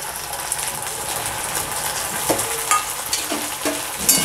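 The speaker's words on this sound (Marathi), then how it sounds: "आणि हे सगळं छानपैकी फ्राय करून घेऊयात." Cabbage manchurian with three sauces and chopped spring onion being stir-fried over medium heat, a steady sizzle with scraping spatula strokes and occasional clinks of the pan, close and continuous with no talking.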